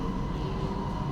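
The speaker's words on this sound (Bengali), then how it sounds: "তো এখন আছে ট্রেনের ভিতরে," Inside a moving train in Malaysia, a steady low rumble and hum fills the carriage, continuous and even throughout.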